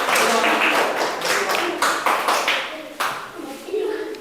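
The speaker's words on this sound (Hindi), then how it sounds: "राखी सोरेन के लिए पुनः एक बार जोरदार ताली होना चाहिए" A classroom audience claps for a student during a Hindi dictation lesson, a dense burst of hand claps with a few sharper individual claps standing out, sustained and fairly loud.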